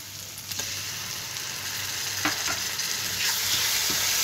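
Tomatoes are stirred into golden-brown fried onions and cooked peas in a pan, giving a steady sizzle with soft scraping and stirring noises close by. No one speaks.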